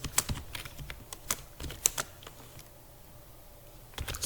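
C++ code being typed on a computer keyboard, a quiet nearby patter of irregular key clicks in short bursts with a pause in the middle, no talking.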